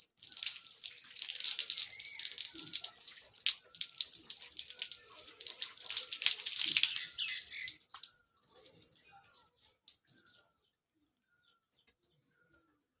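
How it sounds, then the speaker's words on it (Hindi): Water poured over the head during a ritual bath, a steady splashing rush lasting about eight seconds, then thinning to scattered drips and trickles before falling quiet. "सबसे पहले आप एक बार सर के ऊपर से पानी बहाएं"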